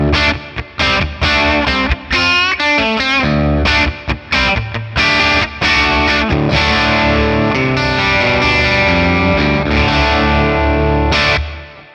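Les Paul electric guitar tuned to drop D, played through a Friedman Plex amp model with reverb; heavily distorted chugging riffs and sustained chords ring out loud and alone, with short choppy stops early on.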